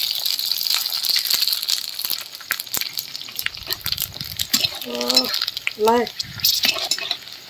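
Fuchka puris frying in hot oil for a homemade fuchka batch, a steady close sizzle with stirring and utensil scrapes, a voice speaking briefly over it.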